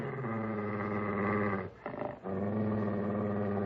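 A dog named Prince growls low and steadily in an old radio drama, the rumble briefly dipping midway before resuming, close and fairly loud, with no speech.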